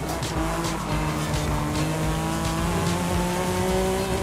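A 1992 Honda NSX-R brakes hard in the Forza Horizon 5 racing game, its tires squealing continuously over a steady, loud engine roar.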